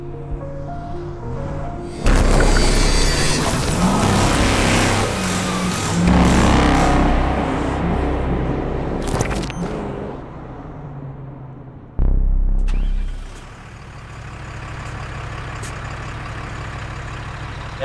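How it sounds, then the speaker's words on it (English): A 12-valve Cummins diesel engine in a rock crawler pickup grumbles loudly and steadily. It revs up in two bursts, then settles back to a low, rough idle, close by with no talking. "I just love the grumble of a diesel."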